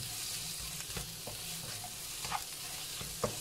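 Sliced onions sautéing in a pan for chicken dum biryani, a soft, steady sizzle with occasional light stirring scrapes, faint and close with no voices.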